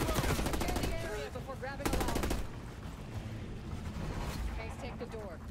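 Rapid automatic fire from a KVS gun in the shooter Call of Duty Black Ops 6, fast rattling bursts that stop and start over a steady game backdrop, with voices talking over the shots.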